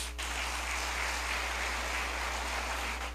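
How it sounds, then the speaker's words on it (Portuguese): A church congregation applauds at a revival conference, a broad, steady wash of clapping that fills the space at even loudness for a few seconds with no clear talk over it. "Vamos aplaudir Jesus."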